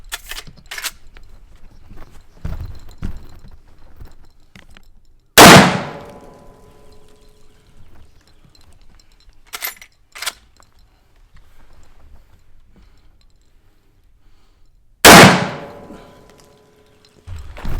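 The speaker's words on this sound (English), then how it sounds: "So now we are going to go with the Henry 30-30 lever action." Two sharp, loud rifle shots from a Henry 30-30 lever-action fired at a prosthetic leg, spaced about ten seconds apart, each with a quick decaying echo, and faint clanks and knocks of handling in between.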